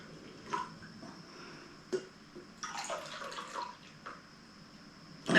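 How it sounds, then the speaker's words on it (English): Beer poured into a glass makes a soft, close gurgle and splash, with a few drips and bubbly fizz swelling midway, all faint in an otherwise quiet space. "Good pour noises."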